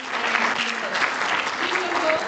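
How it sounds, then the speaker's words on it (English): An audience at a creative conference bursts into applause, dense continuous clapping filling the room at high volume throughout, with no talk over it. "A round of applause, please, everybody."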